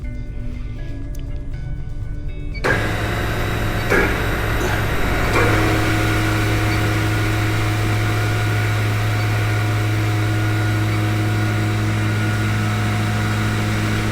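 A Voorwood A117B shape and sand machine with three shaping heads and four sanding heads starts up and runs with a loud, steady industrial drone and whine, a few clunks as it spins up, then a continuous hum.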